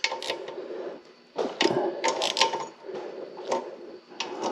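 A small ratchet tightens the bolts on a cheap pressure washer pump. Close, dry clicking comes in several quick bursts with short pauses between strokes.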